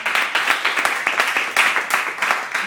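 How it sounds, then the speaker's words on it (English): A small audience at a university enterprise society talk claps for a volunteer named Bart, sharp, fairly close individual claps in a loose uneven rhythm, thinning toward the end. "Guys, please give Bart a massive round of applause."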